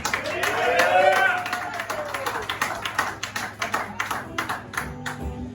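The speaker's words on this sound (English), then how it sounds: "one more round of applause for the Ruffed Up Duck" A loud shout opens, then scattered clapping from a small bar crowd in Laramie, Wyoming continues in uneven rhythm before fading.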